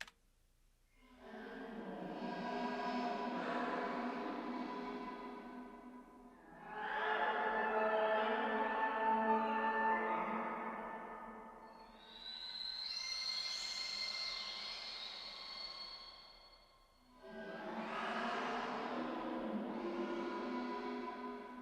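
Psytrance atmosphere pad with pitch shifting, echo and reverb, swelling in four long sustained washes with a bright shimmering layer rising in the third, played alone with no talking.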